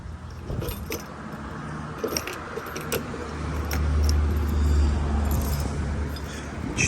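A bunch of four keys for a 2013 Yamaha Jog SA-39 ZR scooter jangles and clinks close by in repeated bursts, with a low rumble of passing road traffic swelling underneath.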